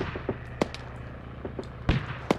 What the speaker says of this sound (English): Explosion outside the compound.